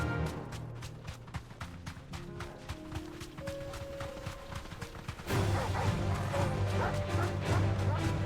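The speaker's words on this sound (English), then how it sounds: "I'm not fighting doggies right now." Dogs bark and yip in a video game, a run of quick yaps over game music and footsteps, growing louder and busier in the last few seconds.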